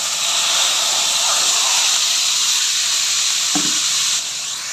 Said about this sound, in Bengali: ভাজা ভাজা হয়ে গেছে, এখন মাংসটা ঢেলে দেবো।